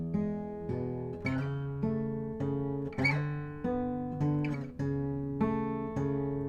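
Fingerpicked acoustic guitar plays the first E section of a piece, a steady bass line under plucked treble notes, clear and close with no voices.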